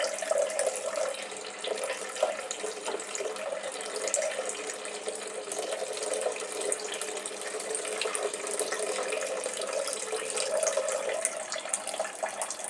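Water drains off settled wheat starch in a steady, continuous pour, close and fairly quiet, with no voices over it.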